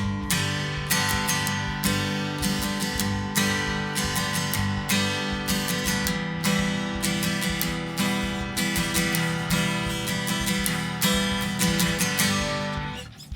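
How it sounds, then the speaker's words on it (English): Acoustic guitar strummed in a steady, repeating rhythmic pattern, with crisp down and up strokes, close and clear with no voices. "the most common strum pattern that no one talks about"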